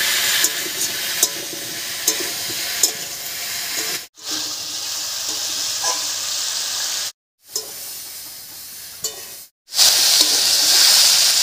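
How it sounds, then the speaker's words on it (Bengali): Cauliflower and potato pieces sizzle in a pan with a bright, steady hiss broken by a few short silences, and occasional stirring clicks sound early on. "ফুলকপি আর আলুটাকে একটু ভাজা ভাজা করে নেব"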